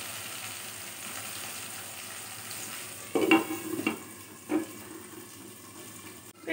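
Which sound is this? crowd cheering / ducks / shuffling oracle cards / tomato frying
tomato frying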